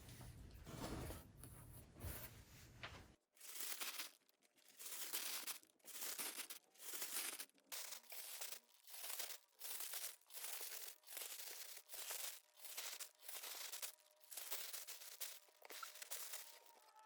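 Paper padding crumpled by hand while packing a lamp box with crystal prisms, a series of about a dozen close, loud crinkling bursts separated by short silent gaps, following an opening stretch of continuous handling noise.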